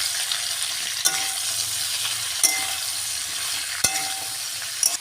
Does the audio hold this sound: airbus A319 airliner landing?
no